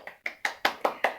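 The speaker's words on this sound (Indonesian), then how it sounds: "Beri tepuk tangan yang meriah buat kelompok 1" Six sharp, evenly spaced claps ring out in a classroom after a student group's presentation, crisp and close with no talk.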